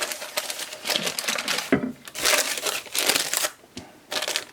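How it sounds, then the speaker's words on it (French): Baking paper is peeled away from a chocolate caramel flan cake in a run of close, crisp crinkling and tearing bursts separated by short pauses, with no voices. "on va essayer de retirer le papier"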